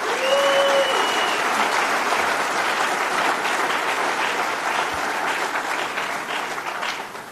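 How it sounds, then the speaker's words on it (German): Sustained audience applause and cheering at a political party rally in the Palatinate, a dense, steady crowd of clapping that holds evenly and tapers slightly toward the end, with a brief voice at the start. "Einen großen Applaus für unsere Vorreiter in Gauersheim"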